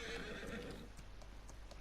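A horse whinnies loudly and close in the farming game Farming Simulator 19 on PS4, a drawn-out neigh over a steady low rumble that fades to quieter clip-clop hoofbeats and faint ticks.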